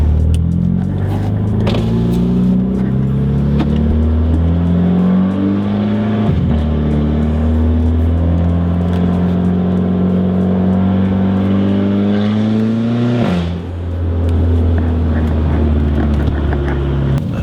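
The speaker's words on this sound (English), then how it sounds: "don't know if you can hear any of the backfiring, but it does backfire quite a bit" A very loud Audi A3 with a modified exhaust droning and revving while driving with the window down, engine pitch climbing through gears with sharp shifts, and only faint pops that may be backfires.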